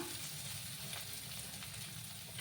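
Onions fry in a pan with a continuous, even sizzling hiss, soft and steady without breaks.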